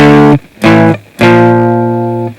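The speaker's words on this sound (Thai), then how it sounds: "เป็นเสียงแตกนะครับ" An electric guitar played through the distortion setting of a Cherub GB2i multi-effects unit, three loud, gritty strummed chords, the last one sustaining and slowly fading, close and alone.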